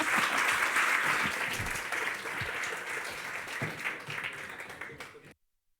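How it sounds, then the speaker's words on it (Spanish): A conference keynote audience applauds in a dense burst of clapping that is loudest at first, then thins out and stops abruptly after about five seconds. "¿Un aplauso?"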